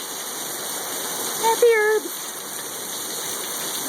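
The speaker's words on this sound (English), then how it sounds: "That's serious rain. It's going sideways." Heavy wind-driven rain pours down steadily during a July Arizona storm that is flooding a backyard, with a brief spoken comment over the constant hiss.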